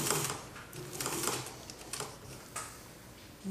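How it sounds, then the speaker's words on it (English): A sewing machine stitching a bodice seam, a close, quiet, rapid mechanical whirring and ticking that runs in short bursts and pauses, heard without any talk. "I'm just going to sew up the other side all the way up to the shoulder."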